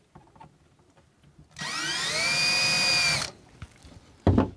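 A power drill drilling a pilot hole in motorhome trim whirs up and runs steadily for about two seconds, then winds down, followed by a brief knock.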